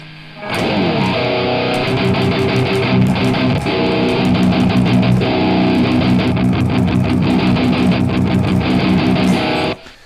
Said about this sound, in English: So overscream gives us a chuggy, tight sound, a metal-y sound.